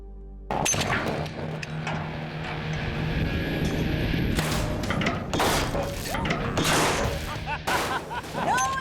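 Steel fist slamming into a load of binary explosive at a bomb range, giving a big thump with no detonation, followed by clattering mechanical noise and scattered bangs over a steady background rumble.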